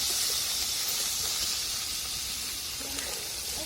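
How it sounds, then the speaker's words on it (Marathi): Onion and tomato sautéing in a pan give a soft, steady sizzling hiss, faint and continuous throughout, with no voices. "तर कांदा टमाटर ते सगळं टाकून घ्यायचं आता आणि चांगलं परतून घ्यायचं."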